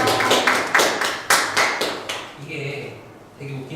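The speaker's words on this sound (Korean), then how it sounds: "박수." A classroom audience claps briefly after a teacher announces everyone passed a beginners' exam; a short burst of close, uneven clapping fades as a voice starts speaking.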